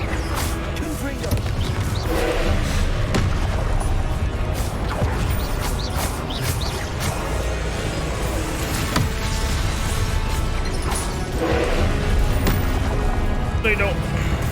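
Confringo blasting-spell explosions from the Hogwarts Legacy trial against the Pensieve Guardian. Repeated crackling blasts and booms sit in a dense, noisy combat mix that stays loud throughout, with a voice speaking at points.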